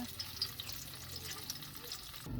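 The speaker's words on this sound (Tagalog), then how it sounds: "malapit ng maprito lahat itong ating tokwa" Tofu cubes fry in hot oil in a pan, a steady close sizzle and crackle that runs throughout the short stretch, with a brief stirring clatter near the end and no talk.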